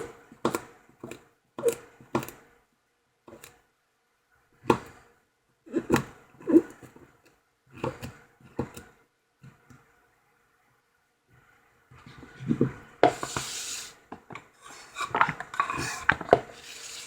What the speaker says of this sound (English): I'm just going to cut them up really small